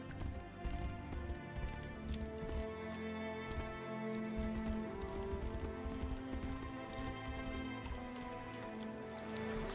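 Hooves of a horse clip-clop steadily in the fantasy game Tainted Grail: The Fall of Avalon, a rapid faint rhythm under a sustained musical bed.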